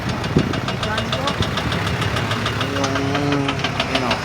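An overhauled bulldozer engine runs with a rapid, steady knocking rhythm, close and loud, while someone talks over it.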